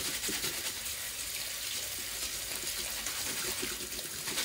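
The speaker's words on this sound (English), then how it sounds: "What I'm going to do is run it in some clean hot water now." Jewelry rinsed under a running hot water tap to wash off soap, a steady close gush of water splashing into a sink without pause.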